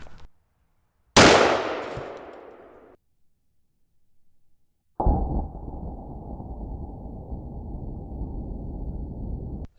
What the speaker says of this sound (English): How much damage would an AR-15 do?